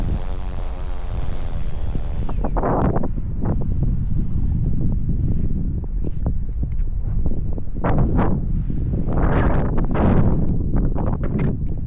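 Strong wind buffets the microphone in a steady, loud roar with gusty bursts throughout, no voices.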